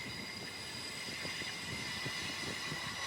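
An NGR commuter train runs into Roma Street Station in Brisbane, a steady rumble of wheels and carriages with faint rhythmic clatter and a high, tonal whine above it.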